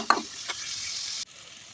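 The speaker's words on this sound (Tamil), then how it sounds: "தக்காளி பழம் நல்லா வதக்கணும் பச்சை வாசனை போகிற அளவுக்கு நல்லா வதக்கணும்" Tomatoes sautéing in a pan for egg kuzhambu, a short sizzling burst with a couple of stirring scrapes before it cuts off abruptly.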